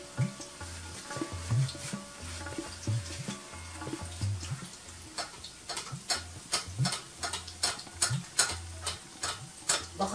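Egg chapli kebab frying in hot oil on low heat, a steady crackling sizzle with repeated soft knocks and stirring taps from a ladle, close and moderately quiet, with no talk over it.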